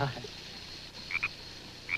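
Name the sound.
frog croaking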